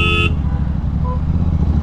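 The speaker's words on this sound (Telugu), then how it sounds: "వెనకాల హార్న్ కొడతా ఉన్నాడు." A vehicle horn blares briefly from behind a motorbike in traffic, a short loud honk cut off early, followed by steady road and engine rumble.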